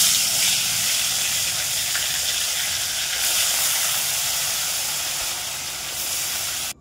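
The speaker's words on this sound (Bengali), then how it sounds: "মাছগুলো ভেজে নিচ্ছি" Small fish seasoned with turmeric and salt fry in hot oil in a kadai, giving a steady, loud, broadband sizzle and hiss that holds evenly throughout before cutting off abruptly at the very end.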